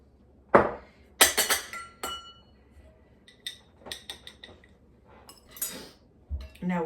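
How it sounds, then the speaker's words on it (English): A spoon stirs tomato powder into dry beans and meat inside a glass jar, giving a run of sharp clinks and scraping taps spaced out and up close. "Now we're going to get that tomato powder stirred down into all those, the beans and meat"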